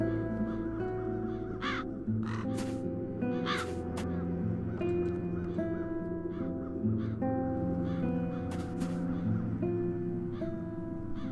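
Crows caw repeatedly in the adventure game The Dark Eye: Chains of Satinav, harsh calls recurring every second or two over a sustained musical score.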